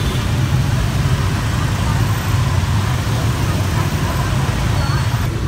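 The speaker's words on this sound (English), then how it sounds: "Everything is a motorbike and a scooter. So it's loud." Loud street traffic in Saigon made up of motorbikes and scooters, a constant close roar of engines with idling and babbling voices beneath it.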